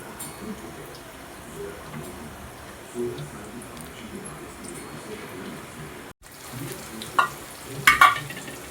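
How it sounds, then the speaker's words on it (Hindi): Masala-coated fish pieces fry in a kadai with a steady, moderate sizzle, joined by a few sharper bursts and spatters near the end as more pieces go in. "अब इसमें मच्छी डिप कर करके मैं कढ़ाई में छोड़ रही सो है।"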